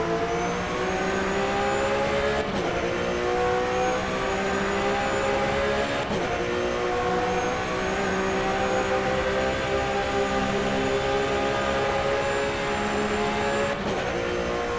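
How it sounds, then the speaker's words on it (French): A Porsche Supercup race car engine on the Nordschleife drones steadily at high revs, loud and sustained, with a few brief shifts in pitch as it runs. "On va vous laisser profiter un petit peu du son de ce superbe moteur"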